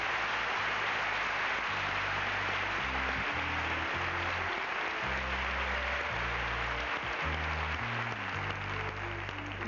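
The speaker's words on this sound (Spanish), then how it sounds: "este fuerte aplauso para ellos" Studio audience applause on a 1984 Spanish TV game show, a steady hiss of clapping running the full ten seconds beneath bright, stepping background music.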